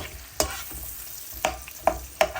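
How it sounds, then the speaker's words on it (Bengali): Food frying in a pan with a steady sizzle, broken by several sharp scraping stirs of a utensil at irregular intervals, close and moderately loud with no talking. "ভেজে ফেলবো"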